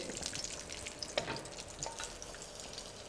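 Whole spices such as cumin and coriander seeds fry in a pan while being stirred, a steady crackling sizzle with sharp scraping clicks of the spoon, close and fairly quiet, no voices.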